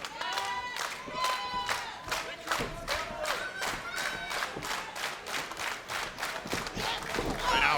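A wrestling crowd in Dallas, Texas, claps and chants in a steady rhythmic beat during a title match, with loud regular rhythmic claps and shouting voices that swell toward the end.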